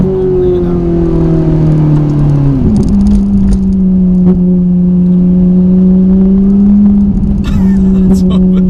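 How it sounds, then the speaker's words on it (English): Ferrari 458 with a Capristo exhaust holds a loud, steady engine drone whose pitch dips and then settles into a sustained rev, with road rumble throughout. "We've been driving the Ferrari 458 all morning"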